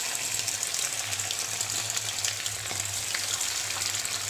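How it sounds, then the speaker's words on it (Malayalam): Marinated chicken 65 pieces fry in boiling oil, a continuous low hissing bubble with faint crackles holding steady and quiet throughout, no talking. "നല്ല തിളച്ച എണ്ണയിൽ നമ്മൾ ഇട്ട് കൊടുക്കുകയാണ്"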